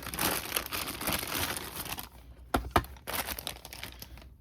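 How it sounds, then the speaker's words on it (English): Plastic bag crinkling around a boxed Good Smile Kirby Car Mouth pull-back toy car during an unboxing, close and busy, with a short quiet gap followed by a couple of sharper rustles and renewed crinkling. "Still in a plastic bag here."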